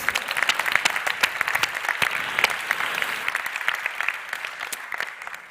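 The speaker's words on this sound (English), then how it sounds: "So a round of applause for Fernando Santos, please." Applause at a data journalism awards ceremony, a crowd clapping steadily with sharp individual claps standing out, gradually fading toward the end.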